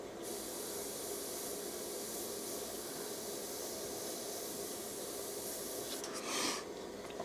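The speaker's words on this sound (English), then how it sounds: "just puff a bit of paint in" An airbrush sprays paint in an unbroken steady hiss onto a monochrome portrait, close and even, with a brief louder puff near the end and no voices.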